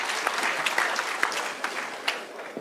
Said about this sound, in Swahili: Mpigieni makofi tena.